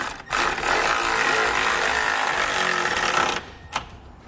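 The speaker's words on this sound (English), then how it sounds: "We'll come back with a 9/16 wrench and socket" A 9/16 socket on a power tool runs down the hardware of a Blue Ox base plate on a 2013 Jeep Grand Cherokee. It gives a loud buzzing whir for about three seconds, then a short final burst.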